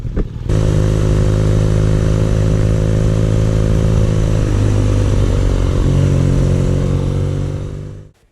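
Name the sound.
BMW R nineT Urban G/S motorcycle engine while riding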